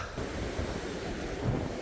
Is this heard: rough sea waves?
yes